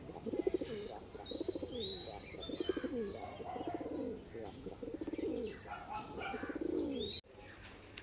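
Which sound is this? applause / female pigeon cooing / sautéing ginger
female pigeon cooing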